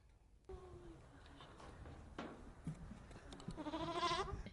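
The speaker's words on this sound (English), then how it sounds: "Cam the Ram is a proud daddy to these 5 newborn Rambouillet sheep" Newborn Rambouillet lambs bleat in a few short, wavering cries, quiet and close, rising into a louder, quavering call near the end over a hushed barn background.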